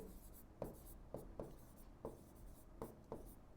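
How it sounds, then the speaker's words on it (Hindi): Pen or chalk writing by a teacher during a class tenth mathematics lesson on polynomials: quiet, evenly spaced strokes and taps, about six distinct marks in a short burst. "तो यहां पर लिखेंगे"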